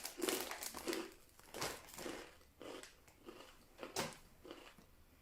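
Crunchy Japanese puffed rice crackers seasoned with soy and wrapped in nori bitten and chewed up close, a series of crisp crackling crunches in uneven bursts with short pauses between bites.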